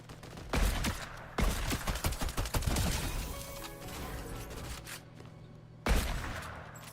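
Sniper rifle fire in a video game: a few loud, sharp reports with a dense burst of rapid shots in the middle, mechanical clatter in between and one more loud shot near the end.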